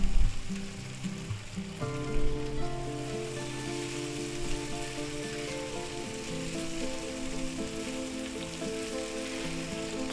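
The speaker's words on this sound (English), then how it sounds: "Now to that we're going to put our pasta noodles in, or egg noodles, whatever you have" Pre-cooked egg noodles sizzling in a stir-fry pan for pork lo mein: a strong opening burst, then a steady close hiss and crackle of hot oil under a sustained tonal hum, with no voices.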